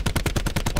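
Automatic gunfire in a Call of Duty video game, a rapid burst of about seven evenly spaced, sharp shots, close and loud with nothing else heard.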